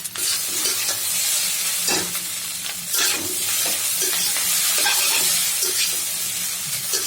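Noodles stir-frying in a hot pan give a loud, continuous sizzle broken by repeated scraping and tossing strokes, close up, with no voices.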